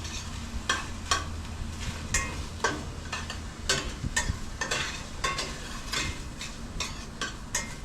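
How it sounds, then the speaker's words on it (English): Alligator chili ingredients sizzle in a pan with a steady frying hiss, broken by a regular series of sharp scrapes and clinks as they are stirred, close and clear, with no voices. "got a little sizzle going on"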